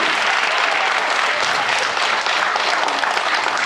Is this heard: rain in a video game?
no